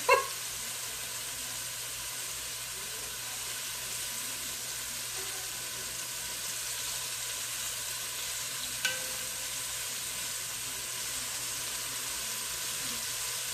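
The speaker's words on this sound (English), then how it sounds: "And you're not cooking these done, you're just getting a sear on the outside." Beef searing in a hot pan gives a continuous bright sizzle, with a couple of sharp clanks as pieces are moved or flipped.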